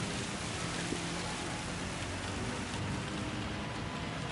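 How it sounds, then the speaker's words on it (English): Heavy rain pounding steadily on a very wet race track at Spa-Francorchamps in the racing game Gran Turismo 7, a dense, even wash of noise that holds constant without any break. "currently, it looks like we got a lot of rain"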